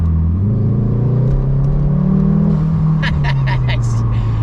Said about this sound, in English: let's put my foot down a little bit